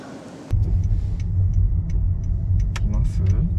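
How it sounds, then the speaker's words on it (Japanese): A car suddenly rumbles up close on a road and keeps rolling past with a loud, steady low engine and tyre drone. A few faint voices are audible underneath. "やばい、車来た。"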